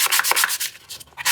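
Sandpaper de-nibs a sanding coat on a handmade wooden TV unit in a hand-tool woodworking shop. About seven quick, close, rhythmic rasping strokes follow one another with short gaps between them.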